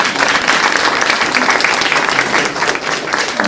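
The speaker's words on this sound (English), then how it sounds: "Let's give them a round of applause." A crowd at the Beckley Saner rec center ribbon cutting claps loudly and steadily, a dense, close round of applause with no voices over it.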